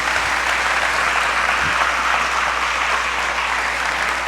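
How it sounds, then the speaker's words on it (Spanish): A church congregation applauds during a Spanish-language service, a loud, dense and steady wash of clapping that continues evenly from start to finish without speech. "Denle el aplauso al Señor."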